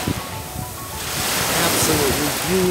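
Surf washing onto a Key West beach with clear water, a steady broad wash that swells louder partway through, joined by faint background voices and wind.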